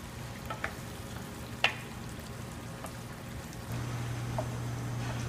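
Spice-coated chunks cook in a pan with a soft, even frying hiss, broken by occasional light clicks and taps, with a low steady hum joining partway through.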